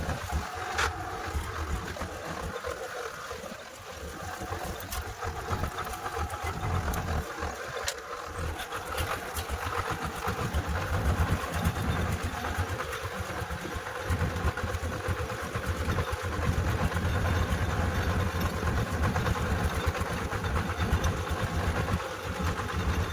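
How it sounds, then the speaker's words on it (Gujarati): Farm tractor engine running with a steady, fairly loud chugging drone that holds throughout, no voices. "ચલો હવે જઈએ ઘેર ટ્રેક્ટર લઈને."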